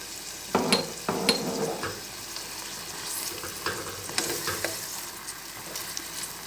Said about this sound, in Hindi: तेज़ आंच पे 5 मिनट अच्छी तरह भूनना है कीमे को।